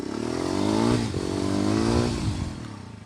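A stunt motorcycle revs and rides nearby, its engine note rising and falling in two surges with some scraping clatter, loud and unaccompanied by talk.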